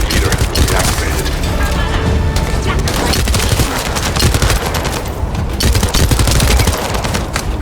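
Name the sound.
gunfire in video game The First Descendant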